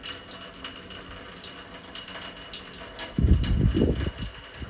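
Water draining out of a washing machine, a steady low gurgle of liquid that swells into a louder, splashing gush near the end, with a faint background hiss throughout.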